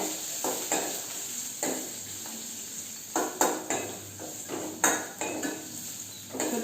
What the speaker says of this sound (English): we need to add our chopped onion into this. Give a quick stir.